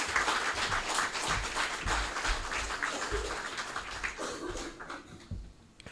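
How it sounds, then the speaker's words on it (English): A round of applause for a speaker at a club breakfast event, with many hands clapping in a fairly close, lively patter. It thins and fades toward the end. "just give a big round of applause for Dr."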